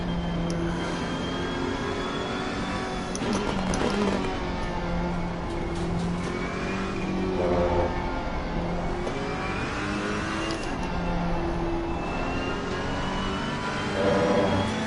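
GT race car engines in Assetto Corsa Competizione at Spa rev and whine continuously, with gear changes rising and falling through repeated acceleration cycles. They are heard close and steady, with no voices.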